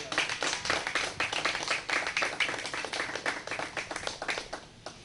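A congregation at a religious service claps in applause, a fairly close run of rhythmic hand claps that continues for about five seconds and tapers off.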